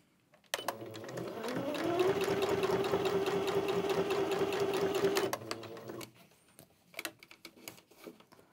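Sewing machine stitching fabric, starting up and running in one steady whirring, mechanically ticking burst of about five seconds, then stopping, followed by soft handling clicks and rustles nearby.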